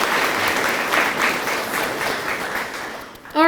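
Audience applause at a tourism awards event honoring charity contributors, a full steady roar of clapping from a large room that gradually thins before a voice cuts in at the end.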